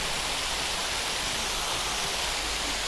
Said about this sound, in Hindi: और यहाँ पर ये वाटरफॉल है